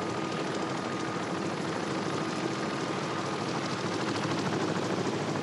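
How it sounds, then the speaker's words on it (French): A helicopter flies from Ajaccio over Corsica, its rotor and engine making a steady, dense, continuous drone that fills the whole stretch at an even level with no voices. "Cet hélicoptère vient de quitter Ajaccio pour partir vers l'une des plus belles régions de l'île"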